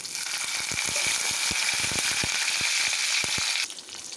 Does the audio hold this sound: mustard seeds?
yes